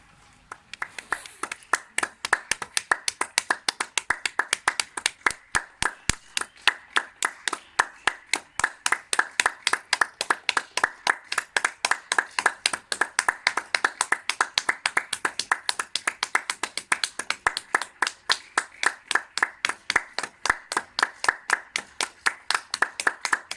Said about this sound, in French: on sort, on applaudit à 20h.